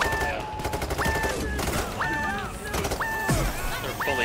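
Sentry turrets in Payday 3 fire rapid, sustained bursts of automatic gunfire, dense and loud, mixed with beeping game tones and other game effects.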